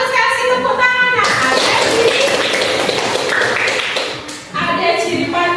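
Classroom pupils give a classmate a round of applause, a dense burst of children's hand clapping that briefly dips, then picks up again, with kids' voices mixed in.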